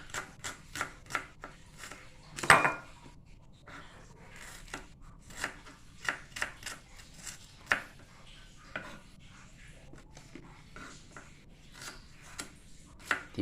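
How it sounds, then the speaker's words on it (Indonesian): A knife slices shallots and garlic on a board with quiet, fairly regular taps and cuts repeating steadily, one sharper knock standing out among them. "Selanjutnya bawang merah dan bawang putih diiris-iris ya."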